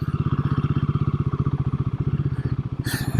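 A Royal Enfield Himalayan 452 with a rally kit revs steadily with a rapid, even pulsing on gravel, close by, with a brief rougher burst and crunching near the end.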